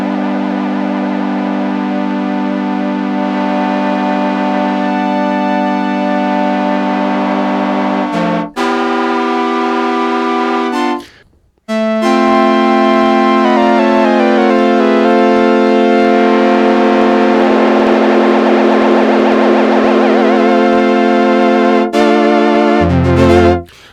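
A Sequential Prophet 6 synthesizer plays sustained tones shaped by LFO modulation, wobbling and sweeping in pitch like a siren, loud and close. A brief dropout interrupts it midway, with no voices.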